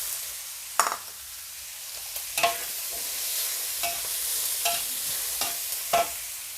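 Cucumber stir-fried with pork and shrimp in a pan gives a soft, steady sizzle, with a few sharp scrapes and clacks from the spatula tossing the food at irregular intervals.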